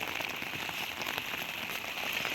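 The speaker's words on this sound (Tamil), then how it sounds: "இதெல்லாம் பாருங்க, ஃபுல்லாக மழை தான்" Heavy monsoon rain falls in the Valparai hills among tea plantations, a dense, close, continuous patter and hiss of drops on surfaces with no speech.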